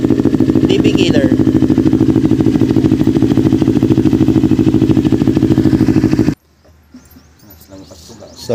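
A motorcycle engine, an NK400 fitted with an R11 exhaust pipe and a dB killer silencer, runs loud and close in a fast, steady throbbing idle, then cuts off abruptly and leaves only faint background sound.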